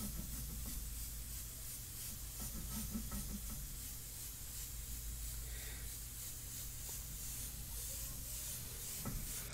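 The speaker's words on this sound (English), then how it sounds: "remember, the first couple of sprays always away from your artwork" An airbrush sprays India ink onto paper for a portrait, a steady continuous airy hiss running throughout at close range, unbroken and even.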